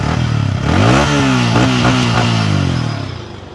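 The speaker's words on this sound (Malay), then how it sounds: "moh kita dengar bunyi motor dia macam mana" A secondhand motorcycle engine idles loudly, then revs up and down several times with a rough, throaty roar before settling back toward idle.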